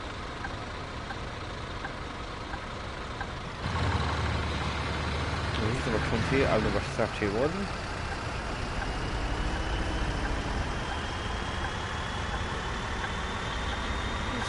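A bus engine rumbles in a bus driving game, idling low and then swelling as it pulls away, with a brief hiss in the middle while someone talks over it.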